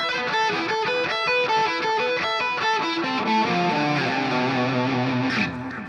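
Fast, fluid distorted electric guitar sweep-picked arpeggios in the Locrian mode, rippling up and down in quick succession, loud and sustained, ending on a held note.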